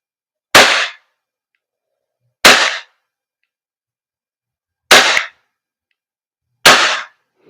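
A WE Glock 17 Gen 5 airsoft gas blowback pistol fires four sharp, loud cracks at uneven intervals, each clearly separated by silence.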